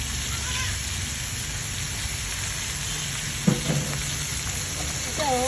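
Marinated beef sautéing in a pan for ginisang beef gives a steady, hissing sizzle close by, with a few brief clatters of stirring near the end; no clear speech.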